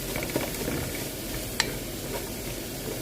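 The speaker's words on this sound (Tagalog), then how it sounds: "Hanggang sa maigisa natin yung bawang at sibuyas" Garlic and onion sautéing in a pan for moussaka, a steady soft sizzle close by with occasional light scrapes and a single sharp clink of the spatula.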